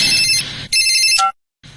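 An electronic mobile phone ringtone sounds in a Hindi radio drama: two loud bursts of bright, steady tones, then silence before the ringing faintly begins again.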